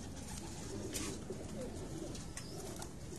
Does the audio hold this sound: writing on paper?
no